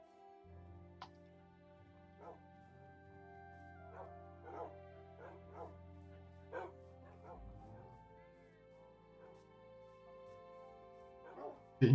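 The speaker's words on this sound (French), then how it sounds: "Voilà, l'armada de chiens qui arrive." A pack of tamed dogs in the video game Minecraft yips and barks in a scattered series of short, light calls over a steady low in-game hum.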